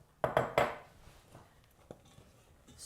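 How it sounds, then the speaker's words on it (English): A few quick clinks and scrapes of a utensil stirring cranberry sauce ingredients in a pot, three sharp knocks close together followed by softer scraping, close and fairly quiet. "Stir them in."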